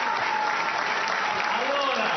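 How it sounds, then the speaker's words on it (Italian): Dense, continuous clapping from an assembly of parliamentarians welcoming Luigi Di Maio, a full chorus of many hands beating together indoors with no break. "Nel video l'applauso è corale, tutti battono le mani, deputati e senatori"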